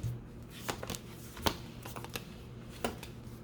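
Tarot cards are shuffled in a quiet room, giving a few soft, quick riffling and flicking bursts spaced irregularly, close and faint.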